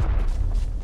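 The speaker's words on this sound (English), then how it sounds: "Oh, that's gonna be a nice nade." A grenade goes off in the video game Arena Breakout as a single deep boom whose low rumble fills the whole second, close and loud.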